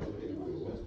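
A toy cuckoo bird at a nature museum classroom in Camden, North Carolina gives a single short, soft, low cooing call, close by.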